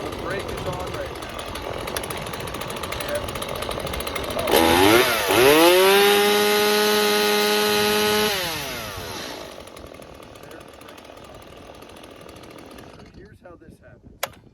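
A chainsaw is started with its chain brake engaged. After a low background stretch, the engine roars up and holds a high, strained rev for a few seconds, then drops back to a rough idle. It sounds close and loud.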